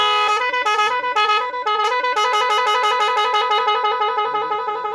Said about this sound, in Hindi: हॉर्न बटन जो है आप दो मरतबा क्लिक करेंगे तो दूसरा साउंड आ जाएगा